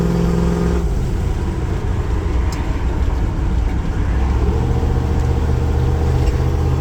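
A 1978 Ford Bronco with a 460 EFI V8 accelerates with a loud, close engine drone that rises and shifts in pitch, with a steady rumble underneath, heard from inside the vehicle with no talk.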